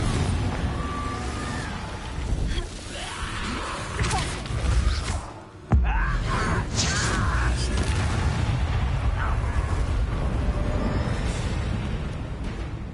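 Confringo spells explode during Hogwarts Legacy combat, with booming blasts and thumps over a dense, continuous battle roar, a sharp impact cutting through midway, and a voice faintly under the action.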